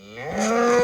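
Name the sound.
cow mooing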